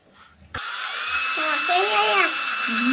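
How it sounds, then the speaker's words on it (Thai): An electric drill bores holes for a homemade Advent decoration, whining steadily and close for a few seconds after a sudden start while voices talk over it. "ให้ป๊าป๊าเจาะให้เยอะ"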